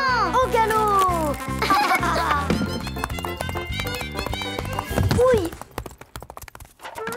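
Rapid cartoon clip-clop of a horse's hooves at a gallop, bouncy and rhythmic beneath lively music, with a child cheering and giggling over it.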